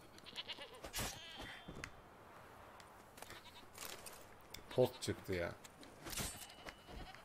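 Goats in The Witcher 3: Wild Hunt let out a few short, fairly faint bleats while people talk over them.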